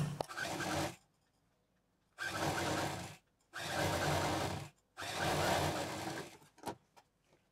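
A sewing machine stitches leftover fabric pieces together for a homemade bag, running in four bursts of about a second each with short pauses between them, then a few brief taps.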